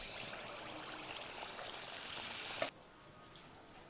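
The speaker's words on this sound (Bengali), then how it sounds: "এক হাতা ব্যাটার নিয়ে নিয়েছি, তেলের মধ্যে দিয়ে দেব।" A ladle of malpua batter going into hot frying oil, a continuous close hiss and bubbling that cuts off abruptly near the end, leaving a quieter background with a small knock.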